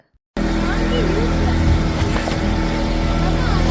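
A boat engine drones in a steady, loud, close roar on the return ride from Ross Island to the water sports complex in the Andaman Islands, with wind and water rush mixed in.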